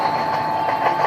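A train running in the video game Indian Train Simulator gives a steady, loud rolling rumble with a faint rhythmic rail clatter and no talking over it.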